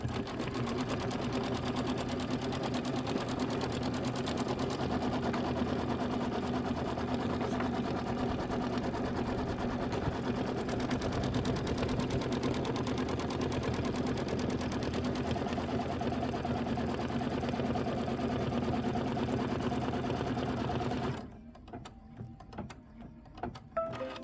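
An embroidery sewing machine stitches a quilt tack-down in a continuous close, loud, rapid mechanical whir and rattle for about twenty seconds, then stops, leaving faint handling sounds.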